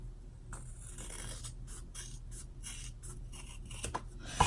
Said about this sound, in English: Make sure to cut straight and just get the bulk off.